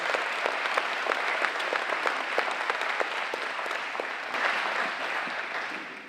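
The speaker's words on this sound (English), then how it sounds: "One more applause for Image of Hope Ranch." Audience applause at a community foundation meeting, a steady round of clapping from a seated crowd that holds for several seconds and then gradually tapers off.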